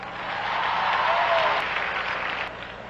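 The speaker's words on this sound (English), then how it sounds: "Clap loud." A church audience applauds loudly in a dense burst of clapping that swells and then tapers off over a few seconds.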